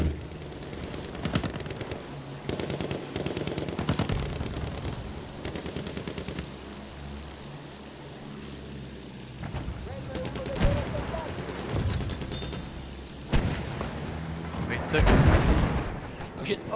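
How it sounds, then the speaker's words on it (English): In the video game Battlefield 1, gunfire and artillery blasts crack and boom, with scattered shots, bursts and heavy thuds that grow louder near the end, while players talk over the battle noise. "there's a guy shooting behind the rock there between the flags"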